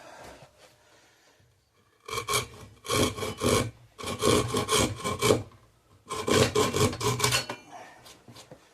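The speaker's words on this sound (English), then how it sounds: "I'll sand that flat." Wood on a bunk bed being sanded flat by hand, four loud bursts of back-and-forth rasping strokes close by, preceded by a quieter stretch of faint rubbing.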